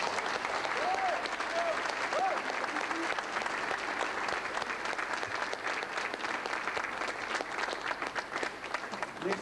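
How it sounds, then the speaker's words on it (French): Applause from an audience fills the room at a steady, dense level for the whole stretch, with a few faint voices rising above the clapping early on. "Merci de bien vouloir applaudir ces deux passionnés"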